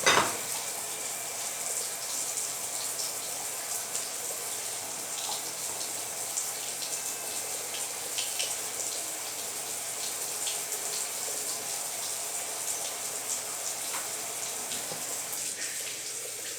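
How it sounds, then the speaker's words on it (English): Warm tap water running while a glass canning jar is rinsed in a sink, a soft continuous splashing stream with small clinks, steady and close for over sixteen seconds without talk. "Rinse it, warm water."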